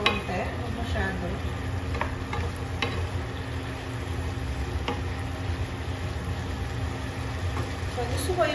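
Sautéed bitter gourd (ampalaya) is stirred in a pan, with a soft continuous sizzle and a few scattered scraping clicks of the utensil, moderately quiet and close, with faint background noise.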